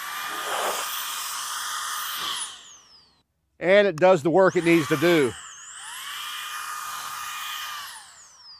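A Milwaukee M18 brushless precision blower runs in bursts, a high whooshing whine that spins up and winds down, with a short stuttering trigger-pulsed stretch between, close by, while someone talks.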